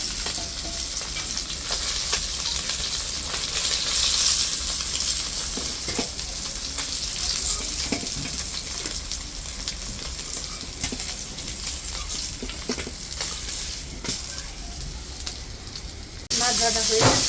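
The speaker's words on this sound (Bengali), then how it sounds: "মাছ ভাজা হয়ে গেছে, এখন নামাই দিই।" Katla fish frying in oil gives a continuous, close hissing sizzle with occasional stirring and spatula scrapes, steady for the whole stretch; a voice speaks briefly over it.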